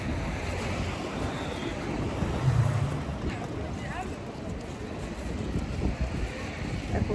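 Wind gusts outdoors on a sunny day, a dense rumbling blow buffeting the microphone continuously, loud and close, with no distinct voices.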